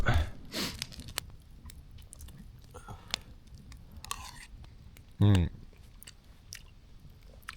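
Someone eating macaroni chili outdoors at a campsite, with soft close chewing and crunching, a few quiet whispers and small mouth noises, and one louder brief vocal sound near the end.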